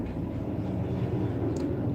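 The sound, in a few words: large helicopter flying over a house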